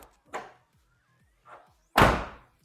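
A stock 1994-98 Ford Mustang SN95 car door shutting with a solid, heavy slam near the end, preceded by a couple of lighter clicks and latch noises.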